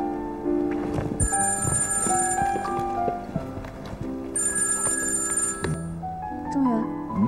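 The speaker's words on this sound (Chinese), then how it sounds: "我接个电话。" A telephone rings in repeated bursts of bright, trilling bell tones, close and prominent over a background of music.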